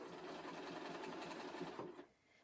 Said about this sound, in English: Let's see what it looks like when I sew.